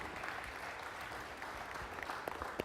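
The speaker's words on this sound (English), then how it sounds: "A big round of applause to all of you for being here on this beautiful night." An audience at a university athletics Hall of Fame induction banquet claps in sustained, fairly distant applause, with a few sharper individual claps near the end.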